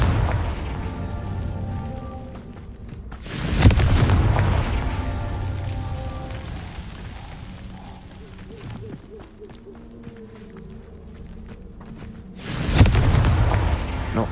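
Two heavy booming blasts from the Confringo fire spell in the video game Hogwarts Legacy, each a loud burst with a rumbling tail, spaced several seconds apart over quieter game ambience.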